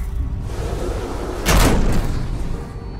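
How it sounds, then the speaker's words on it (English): A security gate door in the video game Beyond Two Souls opens with a single loud, sharp slam-like burst in the middle, set against a steady low ambient hum. "There we go. Door's open."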